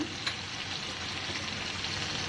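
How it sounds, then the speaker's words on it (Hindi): Chips fry in a pan with a soft, even sizzle, a steady faint hiss throughout and one small early pop, no speech. "दूसरी साइड पे हम चिप्स फ्राई कर रहे हैं"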